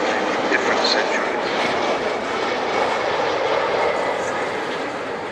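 The Avro Vulcan XH558 jet bomber flying a display at RIAT 2012, an RAF airshow. It produces a loud, continuous broadband engine roar that holds steady throughout, heard from the crowd line.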